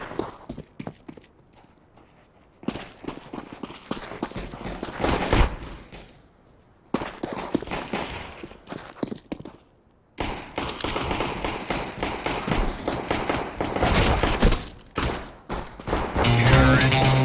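Counter-Strike video game gunfire rattles in dense, rapid bursts of sharp shots across a match, broken by a few short quiet gaps.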